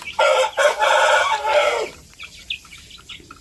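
A native rooster crows once loudly and close on a farm, one long drawn-out call, followed by scattered soft clucks from chickens.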